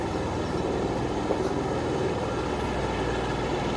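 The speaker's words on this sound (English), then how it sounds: "This noise that you're hearing now is most likely one of the choppers, Allison, that is about to take off." Helicopter idling before takeoff during rescue and recovery efforts in the Bahamas, a steady broadband engine and rotor rumble heard from a distance, constant and unbroken with no voices.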